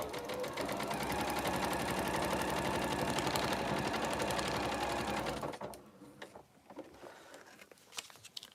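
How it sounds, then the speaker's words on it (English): A sewing machine stitching a quilt block runs steadily with a fast, even mechanical patter for about five seconds, then stops, leaving faint handling clicks and rustles. "I now go and I just sew between the number 3"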